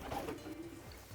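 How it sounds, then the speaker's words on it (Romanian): A racing pigeon coos softly up close, a short low rolling call over faint background noise, with no talking. "Deci ăsta este un porumbel superb, ceva care nu toată ziua te întâlnești în mână."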